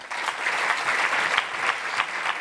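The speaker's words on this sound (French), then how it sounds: "Vous pouvez l'applaudir." An audience at an evening talk on ecology and traditional cultures breaks into sustained applause, a thick, even patter of many hands, close and steady for the whole stretch.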